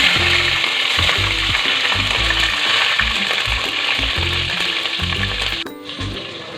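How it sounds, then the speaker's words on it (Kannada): Green chillies sizzle and crackle steadily in hot tempering oil, close and loud, while a spoon scrapes and stirs the pan in a repeating rhythm for a vegetable pulao. "ಇದನ್ನು ಫಸ್ಟು ಹಸಿಮೆಣಸಿನ್ಕಾಯಿನ ಒಗ್ಗರಣೆಗೆ ಹಾಕೊಳ್ಳೋಣ."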